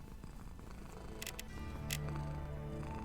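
A cat purring beside the blacksmith in the game Medievalien, a steady low rumble under game music, rising slightly in loudness toward the end, with a few brief bright clinks in between.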